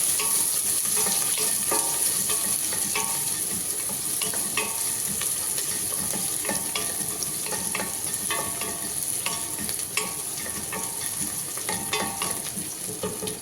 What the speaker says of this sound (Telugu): ఉల్లిపాయలు కూడా వేసేసుకుంటాను.